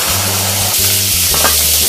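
Capsicum and onion fry at medium heat in a pan, a loud, steady sizzle close by with stirring and a low music bed underneath.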